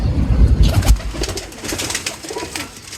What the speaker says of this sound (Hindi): इमामदीन कबूतर है।